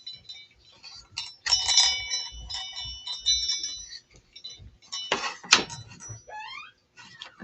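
A small jingle bell handled while making a Christmas faux pallet sign, with bright metallic tinkles and clinks in scattered bursts, close and moderately loud, separated by short quiet gaps.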